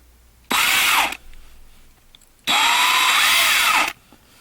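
Small power drill boring out rivets on a 1/64 diecast car, two separate high-pitched whining bursts close up, the first short and the second longer, with quiet gaps between.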